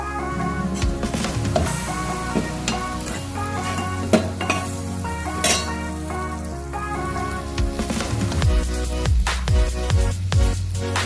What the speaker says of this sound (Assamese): অইলখিনি গৰম হৈ গ'ল, পিঁয়াজখিনি দি দিলোঁ। পিঁয়াজখিনি ভালকৈ ফ্ৰাই কৰি ল'ম।